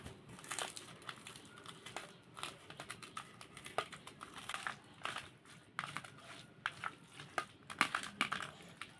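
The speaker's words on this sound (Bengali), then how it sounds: "এখন লঙ্কাগুলো একটু মুলে নেব।" Green chillies crushed and squeezed by hand for a mashed sweet potato and bitter gourd dish, giving close, irregular crinkly squishing and crackling bursts with no talking.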